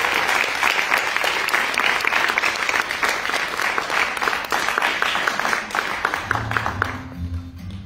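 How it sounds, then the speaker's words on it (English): An audience at a senior songwriting recital gives steady, full applause for the band and sound crew. It carries on for about seven seconds, then fades as a voice begins to speak. "if we can just give them a round of applause"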